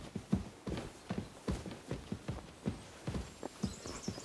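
Rhythmic clip-clop of a horse's hooves walking in Kingdom Come: Deliverance 2, about two steps per second, close and distinct, with no talking.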